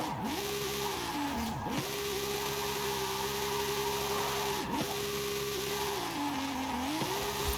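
Simulated car drifting in Forza Horizon 5 with a drift tune on keyboard controls: a steady, loud engine held near the limiter, dipping briefly during gear shifts or throttle lifts, under a continuous hiss of tire scrub.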